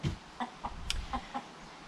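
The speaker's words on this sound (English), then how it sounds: "I better just go and see why this chicken is shouting an alarm call." A chicken giving an alarm call in a garden vegetable patch: a run of sharp, repeated clucks spaced about a quarter second apart, close and moderately loud, with one higher squawk in the middle.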